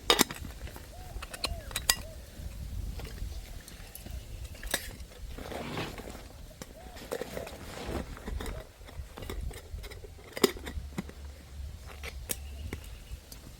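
A titanium camping pot and brew kit with stand, tongs and a small stove are handled, giving scattered light metallic clinks and knocks at close range while someone talks.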